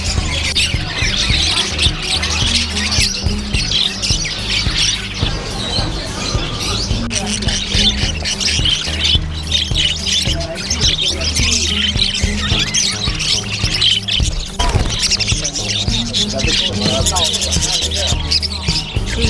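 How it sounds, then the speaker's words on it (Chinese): Many birds squawk and chirp at a busy pet market, a dense, continuous chorus of close calls layered with crowd noise and people talking throughout. "还听到这里好多鸟在叫"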